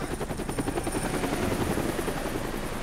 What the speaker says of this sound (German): Dieser dreckige Hubschrauber.